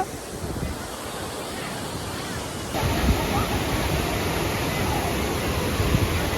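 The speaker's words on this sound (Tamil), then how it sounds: "ஃபால்ஸுங்க, அருவி வேற லெவலில் தண்ணி இருக்குது." Kodiveri dam waterfall near Erode, its rushing water a steady, dense roar that fills the whole clip and grows louder and fuller about halfway through.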